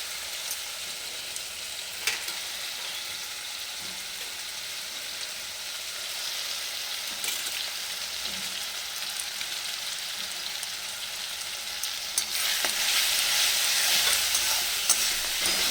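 Spice masala with Kashmiri red chili powder frying for mutton curry over medium heat, a steady close sizzle broken by a few stirring scrapes, swelling louder toward the end, with no talking.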